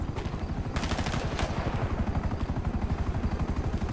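Rapid, dense gunfire and rotor-like chopping from an enemy helicopter during a GTA 5 Online mission, a steady pulsing clatter that stays loud throughout with no talk.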